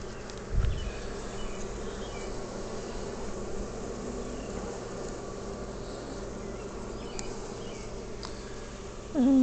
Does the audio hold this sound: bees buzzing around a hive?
yes